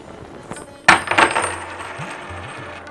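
Several coins drop and clatter onto a hard surface, with a sharp burst of metallic jingling that rings out and fades over about two seconds.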